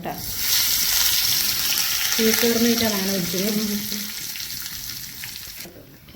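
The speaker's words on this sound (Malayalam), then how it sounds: "നമുക്ക് ഇതിലേക്ക് കറിവേപ്പില ചേർത്ത് കൊടുക്കാം" Curry leaves hit hot oil with spluttering mustard seeds, giving a loud, steady sizzle and crackle close by, while a voice speaks briefly over it.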